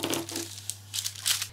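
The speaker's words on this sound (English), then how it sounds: "I'm just going to come round with my scissors now and carefully cut around the outside" Scissors snip and slice through fabric pieces for a child's spring apron, giving short crisp crunching and rustling bursts up close against a faint steady hum.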